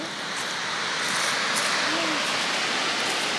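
Sea waves breaking on a pebble beach in El Salvador, with no sand on the shore, making a broad steady hiss of surf and washing water that swells slightly louder midway.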